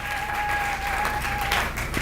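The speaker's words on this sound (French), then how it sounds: "Applaudissez très fort." A church congregation claps steadily for a couple of seconds, the applause fairly even and moderately loud, with a sustained musical tone underneath.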